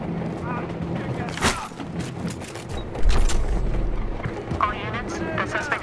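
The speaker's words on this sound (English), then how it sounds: "They're using rockets!" Rocket blasts in Battlefield Hardline multiplayer: a sharp crack near the start and a heavy, rumbling boom midway, with gunfire, mechanical clatter and shouted voices around them in a busy firefight.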